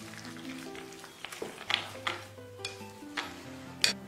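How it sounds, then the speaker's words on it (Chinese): Minced meatball mixture with ginger and an egg is stirred in a bowl, a wet, soft squelching and scraping with a few light clinks against the dish, close and fairly quiet. "然后加入姜末，再打入一个鸡蛋，再次给它搅拌均匀"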